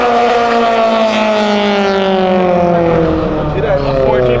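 A BMW and a McLaren sports car race on Avenida Europa, a loud high engine whine climbing and sweeping past close by, with people talking over it.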